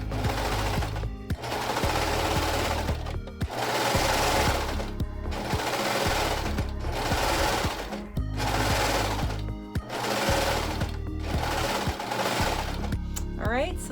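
A serger sewing machine runs in repeated bursts of about two seconds each while finishing the hem edge of a dress, the rapid mechanical stitching loud and close with brief pauses between runs.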